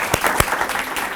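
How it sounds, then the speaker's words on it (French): Short burst of audience clapping at a film screenship masterclass, a few sharp claps over a brief wash of applause, close and moderately loud. "Il me semble qu'on applaudit plus à la fin"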